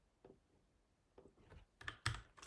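Java code being typed on a computer keyboard: a sparse, uneven run of soft key clicks, with a few louder taps toward the end, close and isolated with no voices.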